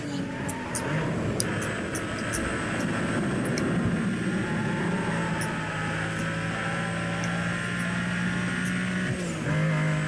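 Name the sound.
car engine racing in video game Need for Speed Most Wanted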